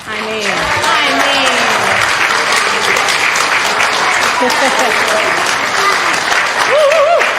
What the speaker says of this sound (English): Not just a round of applause. A standing ovation.